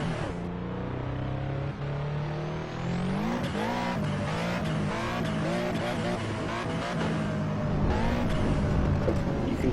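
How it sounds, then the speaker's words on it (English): Modified RUF CTR Yellowbird in the Assetto Corsa racing game, engine droning steadily with rising revs, turbo whistle and brief tire squeal throughout, loud and continuous. "You can hear the turbo."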